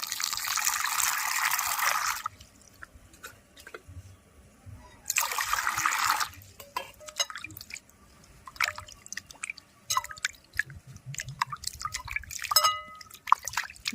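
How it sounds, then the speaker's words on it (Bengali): A ripe mango is rinsed under running water, with two bursts of steady gushing followed by scattered drips and small splashes as the fruit is handled, close and fairly quiet. "প্রথমে আমি পাকা আমটাকে জল দিয়ে ভালো করে ধুয়ে নেব"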